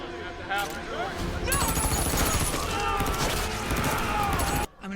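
Gunfire in a TV drama episode, a dense burst of rapid shots and rattling reports over a few seconds, loud and close, with voices mixed in underneath.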